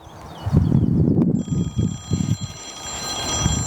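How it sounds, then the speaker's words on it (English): Outdoors while fly fishing, a mobile phone starts ringing partway through with a thin, steady electronic tone, moderately loud over wind rumble and low handling noise. "That'll be my phone."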